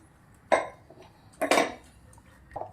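A large metal cooking pot is handled in a kitchen, giving three clanks: a sharp one, a louder double knock a second later, and a softer one at the end, with no talking.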